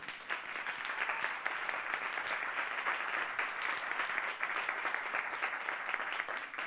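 Sustained audience applause for the organizers at a personal branding conference day, thick continuous clapping from a sizable crowd holding steady throughout.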